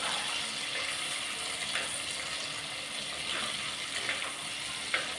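Food frying in a pan until crisp gives a steady, fairly loud sizzling hiss with scattered small crackles and pops throughout. No one speaks.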